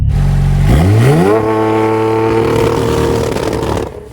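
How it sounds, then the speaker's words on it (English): A tuned Audi TT engine idles loudly, then revs sharply upward in a single rising sweep and holds at high revs before easing off at the end. "all you got to do is rev the bloody engine"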